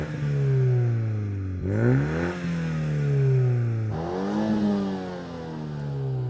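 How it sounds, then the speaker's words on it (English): Toyota Supra 2.0-litre four-cylinder sports car exhaust revving, close and loud, with repeated rising and falling engine sweeps over a steady idle drone. "Have a listen to this exhaust."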